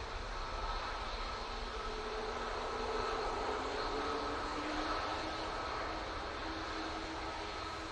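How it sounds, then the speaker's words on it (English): Etihad Boeing 777-300ER airliner arriving from Abu Dhabi at Manchester Airport, a steady distant jet roar with a faint whining tone, continuous and moderately quiet. "Next in is the Etihad 777-300ER coming in from Abu Dhabi."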